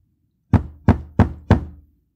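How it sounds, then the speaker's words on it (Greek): A door knocker struck four times in an even rhythm, each knock a sharp, loud, close thud that decays quickly into silence. "ο ήχος του ρόπτρου την ξάφνιασε"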